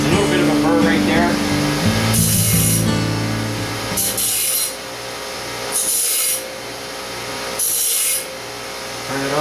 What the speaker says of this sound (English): Now we're going to take the sharp edges off the corner by rounding it.